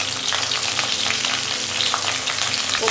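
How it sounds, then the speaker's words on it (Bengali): Cut cauliflower pieces fry in a pan with a loud, dense, continuous sizzle and crackle, close up and alone, with faint stirring scrapes underneath. "কপিগুলো আমি আগে ভেজে নেব"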